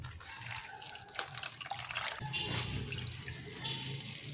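A liter of liquid disinfectant poured into a container makes a continuous close gurgling splash that swells midway and stays steady.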